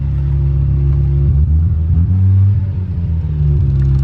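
A Mazda RX7 with a rotary engine rumbles steadily from inside the car during a ride, its low drone rising and falling slightly as it pulls along, loud and continuous with no talking.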